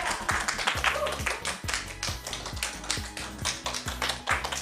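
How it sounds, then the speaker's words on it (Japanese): Audience clapping at the close of a fan meeting event, with quick uneven claps and taps close by over a few seconds, mostly without voices. "拍手。"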